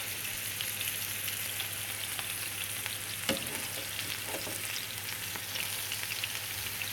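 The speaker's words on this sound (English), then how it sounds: "I just dry fry these in the pan, but I thought I would give it a whirl and see how it goes with a little bit of oil" Pigeon breasts fry in a little oil in a pan, making a dense, even sizzle that holds steady throughout, with one brief sharper clatter partway through and no speech.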